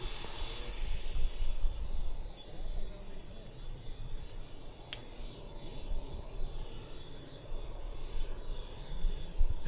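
Airplane engine rumbling steadily at moderate distance as the pilot lines up for takeoff at the Apple Valley air show, a low continuous drone under outdoor wind noise with a brief sharp click midway.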